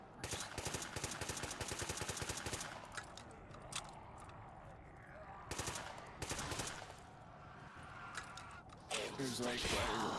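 An upgraded machine gun known as Choni's Buzzsaw firing in a World War-style video game at a German supply depot, with long rapid bursts, pauses and further bursts, and a voice talking over the shooting.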